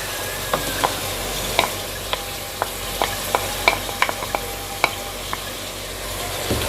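Garlic-ginger paste sizzles steadily in hot oil for mutton curry in a pressure cooker over a medium flame, while a spoon stirs it with a string of distinct clicks and scrapes against the pot, close up and without voices.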